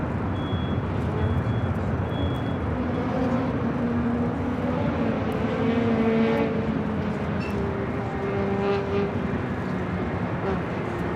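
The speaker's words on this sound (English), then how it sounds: "This is Frontier Flight 4082 coming in from San Jose on the A321neo" A Frontier Airbus A321neo arrives at LAX from San Jose, its steady engine drone sitting under constant airport ground noise, with brief beeps and rumbling vehicles nearby.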